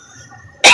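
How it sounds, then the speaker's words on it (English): A single loud, harsh cough bursts in near the end after a stretch of quiet room tone, close to the microphone and alone. "apparently the cough isn't gone"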